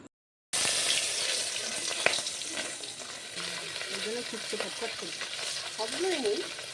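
A steady crackling sizzle of small puti fish frying in hot oil, with stirring scrapes and a voice faintly audible near the end.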